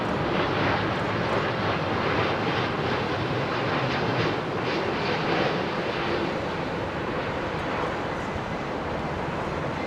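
An airliner landing at Heathrow in strong wind, a continuous loud roar of engines and rushing wind that stays steady for about ten seconds, with no voices.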